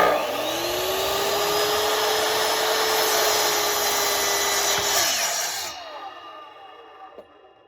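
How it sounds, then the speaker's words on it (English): A miter saw spins up and cuts through a workpiece with a loud, sustained whine for about five seconds, then the blade winds down and the sound fades to near quiet. "So as you can see, that was a fairly quick cut."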